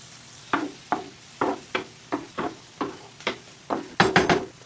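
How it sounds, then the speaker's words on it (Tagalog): Tomatoes sautéed with garlic and onion in hot oil, heard as a run of about a dozen evenly spaced scraping stirs and clacks of a utensil against the pan over a faint background sizzle, close and without talk. "dapat gisang-gisa yung kamatis para hindi siya mabilis mapanis talaga"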